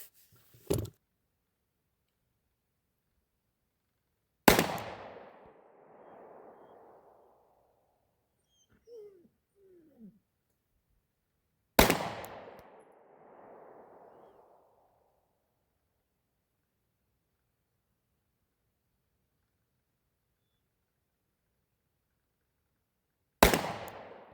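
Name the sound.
9mm pistol shots with Browning and Remington range ammo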